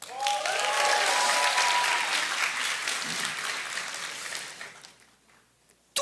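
An audience at a live talk event applauds speaker Paulo Won, loud and full at first, then thinning and fading away over the last couple of seconds.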